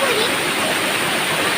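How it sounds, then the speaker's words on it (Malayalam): The Narathumkolli waterfall at Chayoth roars steadily and loudly from close by, filling the whole moment with unbroken rushing water. "വെള്ളച്ചാട്ടത്തിൻ്റെ അടുത്ത് എത്താനായി. വെള്ളച്ചാട്ടം ദൂരത്തു നിന്നേ കാണാൻ കഴിയുന്നുണ്ട്."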